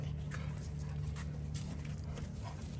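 Three Rottweilers, including a puppy, play tug of war, giving off close growls, whimpers and scuffling in a continuous busy stretch, with occasional yelps over a low rumble.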